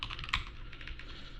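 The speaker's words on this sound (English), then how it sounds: "I swear I type return wrong more than any other word in English." Computer keyboard typing during game-engine programming in C, a quick run of close, crisp key clicks with one louder tap, heard alone without talk.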